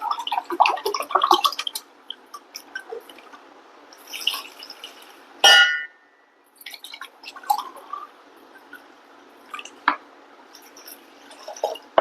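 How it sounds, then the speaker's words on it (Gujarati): Ice cubes go into glasses of chilled bael sherbet with scattered clinks, soft plops and drips, one sharper splash midway, all close up in an otherwise quiet kitchen. "પછી બરફ નાખવાનું."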